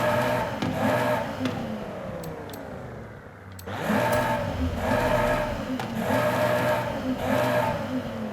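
A 2.5 litre car engine in Forza Horizon 5 revs repeatedly, its note climbing and falling in loud rhythmic pulls with a brief dip in the middle before several more sharp revs.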